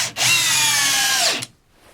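A single loud burst of a Metabo PowerMaxx BS 12 BL Q 12V cordless drill, in drill mode at speed 2, driving a 4.5 by 50 Torx screw into wood, whirring steadily for over a second, then cutting out sharply, close by.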